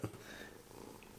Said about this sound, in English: If you hear purring,